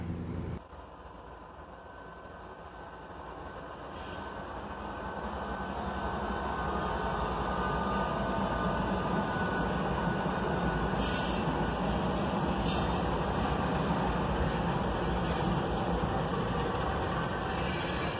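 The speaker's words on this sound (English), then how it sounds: "a pair of ET-44AHs, followed by an AC-44CW, leading a fully loaded giant coal drag southbound" A fully loaded southbound coal drag led by two ET-44AH locomotives and an AC-44CW slows down, giving a loud, steady rumble of engines and rolling freight cars that swells and holds close by.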